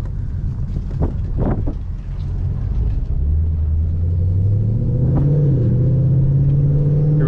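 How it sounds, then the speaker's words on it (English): A 2011 Mustang GT with a Roush axle-back exhaust revs and downshifts, a deep rumbling engine note rising in pitch after a few blips, with some wind noise and no talking. "second gear rev match, first gear rev match"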